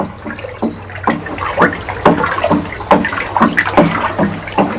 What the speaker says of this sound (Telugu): దీన్ని ఒకసారి బాగా మిక్స్ చేసుకుందాం ఇలా